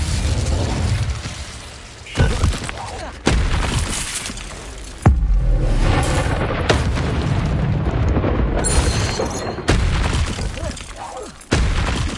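Fire spell blasts from a wizard's wand in Hogwarts Legacy, several loud booming bursts with crackling roars that repeat at irregular intervals over a dense game soundscape.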